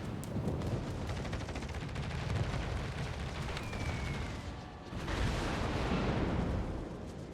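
Dense barrage of bomb impacts pounds a battleship in a naval warship game, continuous loud booming and crackling explosions with no pauses, swelling again after a brief dip.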